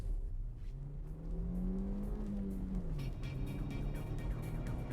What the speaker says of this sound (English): as you accelerate, you're making sure that the car accelerates smoothly, the gears change smoothly